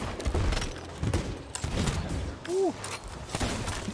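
Pistol shots in Sea of Thieves crack out irregularly amid game noise, several distinct sharp reports at moderate distance, with a voice briefly in the mix.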